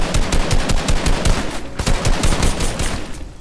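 Rapid bursts of automatic gunfire in Fortnite crackle continuously, loud and close, with dense repeated shots and no pauses.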